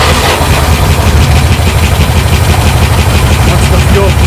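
A 1972 International Scout II engine runs roughly and steadily without a break, a loud low rumble and vibration close to the mic throughout.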